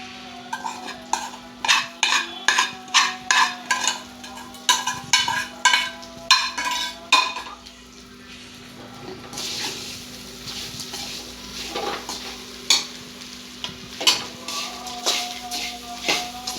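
Okra and coconut fry in oil in a pan while a spoon stirs them. Rapid rhythmic scraping clinks come first, then softer intermittent taps over a quiet sizzle and a constant low hum.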